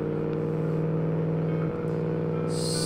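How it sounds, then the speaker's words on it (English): A 90-degree V engine in a 1946 Gasmea car in the Automation video game revs steadily with a strong, humming, multi-layered drone, close and loud, then shifts with a brief dip and a higher whine near the end. "Oh, listen to that engine."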